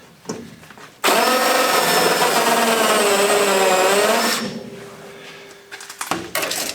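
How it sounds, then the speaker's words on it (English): A loud, steady power drill whines continuously for about three seconds drilling out spot welds on a rusted Datsun 510 floor, then winds down, with faint clicks and handling noise before and after. "I'm gonna drill out the rest of these"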